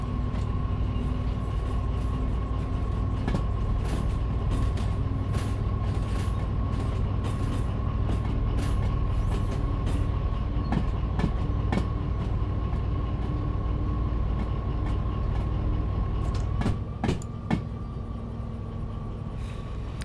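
Locomotive in the Derail Valley train game running steadily, a continuous rumbling drone with a steady tonal hum and intermittent clicks, close and constant throughout with a slight jolt near the end.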